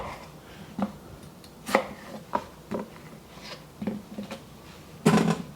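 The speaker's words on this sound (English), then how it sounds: "I'm just going to cut them maybe into quarters" A knife cuts small potatoes into quarters on a board, giving about eight sharp, separate chops at uneven intervals, close and clear with no talk.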